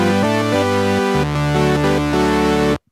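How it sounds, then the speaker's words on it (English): A Korg minilogue analog synthesizer plays a short sequence of bright, buzzy sustained notes stepping between pitches, loud and close, then cuts off abruptly. "And that is the sound of the minilogue."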